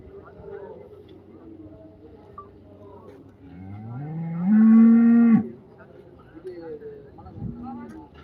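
Cattle at the Chintamani cattle market in Karnataka give a long, loud, close moo in the middle, with softer lowing from other animals and murmuring voices around it.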